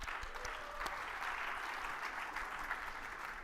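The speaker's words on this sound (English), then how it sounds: "So give them a round of applause." Faint, distant applause from a conference audience at a live business tech event in London, a steady patter of clapping that holds evenly for a few seconds with no voices.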